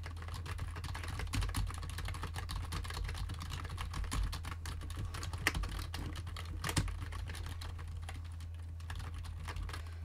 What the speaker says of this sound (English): You guys can literally hear my keyboard clicking.